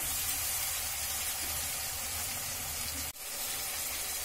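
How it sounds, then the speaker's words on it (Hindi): Masala frying in a pan with a little water for a soya biryani, giving a steady, close hiss and sizzle that runs throughout with a brief dip near the end. "इसे अभी थोड़ी देर, 2-3 मिनट हमें इसे ऐसे ही फ्राई करना है।"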